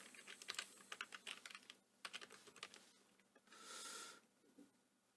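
Keys clatter on a computer keyboard in quick bursts of typing, fairly quiet and close, with a short pause and a brief hissy rustle near the end.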